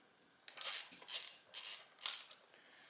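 A spray bottle is squirted onto fabric four times in an even rhythm, each a short close hiss, followed by a weaker fifth spritz.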